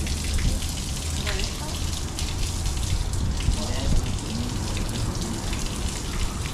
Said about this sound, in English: Just turn the water on, please.